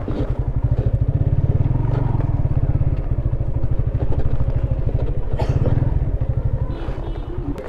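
Idling and revving motorcycles from a large bikers' group stopped at a mountain roadside tea stop, a steady close rumbling engine throb with uneven rev bursts and mechanical clatter, a few voices faintly underneath.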